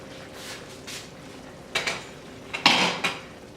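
Creamy pork and veggies are served from a cooking pot into a bowl: soft spoon scrapes and a couple of clinking knocks against the pot and dish, close and alone.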